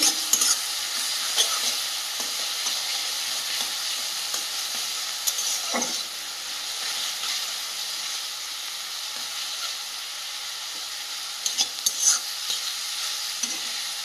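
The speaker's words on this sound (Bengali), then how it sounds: "এরপর দিয়ে দেবো বেটে রাখা পেঁয়াজ। এটাও বেশ ভালোভাবে কষিয়ে নেব।" Onion paste is stir-fried over already-fried chopped onion in a pan: a continuous close sizzle and hiss, broken by occasional scraping knocks of the stirring utensil.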